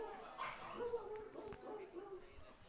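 A dog barks and yips at a minor-league baseball game, faint and distant under crowd noise and a play-by-play voice, with a few short, high woofs and whimper-like sounds.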